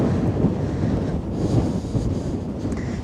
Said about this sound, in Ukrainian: Я маю надію, що я ось трошечки закриваю від вітру